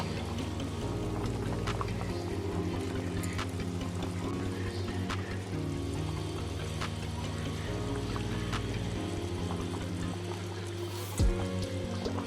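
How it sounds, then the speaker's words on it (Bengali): Thin Bengali katla fish curry gravy boils in a pan with a steady bubbling, rushing simmer and a low hum underneath, continuous and close. "ভালো করে আমি ঝোলটা ফুটিয়ে নেব।"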